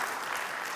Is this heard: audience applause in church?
yes